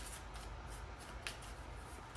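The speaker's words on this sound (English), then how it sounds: "hitting the cards on the table like that" Tarot cards shuffled and tapped against a table, giving soft papery riffles with a couple of sharper knocks near the end, fairly quiet and close with no talking.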